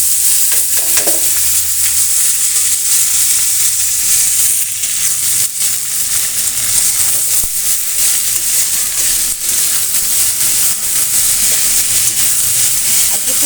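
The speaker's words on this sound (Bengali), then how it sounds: "তেলের ভিতর পেঁয়াজ আর রসুন ভাজা হয়ে গেছে এখন দিয়ে দেবো হচ্ছে পুঁই শাক" Malabar spinach hits hot oil with fried onion and garlic, setting off a loud, dense hiss of frying that runs steadily throughout, close and strong, with a few soft stirring knocks.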